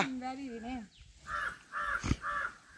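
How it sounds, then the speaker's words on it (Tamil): During a family memorial rite in Jaffna, people call crows to a food offering. A voice calls out first, then three cawing bursts follow at a steady pace amid background chatter. "காகத்தை நீங்களாம் இப்போ கூப்பிட போறீங்க"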